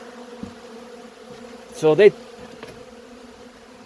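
Honey bees buzz faintly around honey left out near a hive for them to collect, with a brief louder close pass near the middle, under steady outdoor background hum and a single spoken word.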